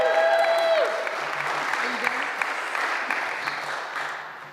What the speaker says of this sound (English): We can cheer for that.